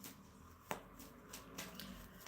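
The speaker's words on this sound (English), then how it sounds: "I just feel like shuffling these cards" A deck of playing cards being shuffled by hand, with soft riffling and a few sharper snaps and flutters over a low room hum, no talking.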